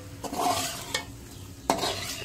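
Potatoes frying with red chilli and ground coriander being stirred in a pan, a soft sizzle under a few scraping, clinking spoon strokes.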